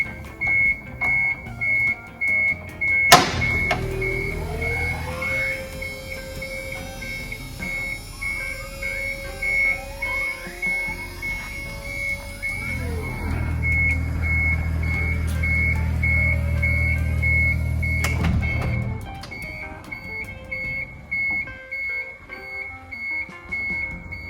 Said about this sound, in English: I've just had the 2 beeps occur again, and that means that everything is in place